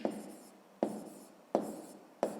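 Pen strokes on paper while a maths solution for a fifth-grade exercise is written out, four distinct scratchy writing bursts in a steady rhythm, close and fairly quiet, with no talking.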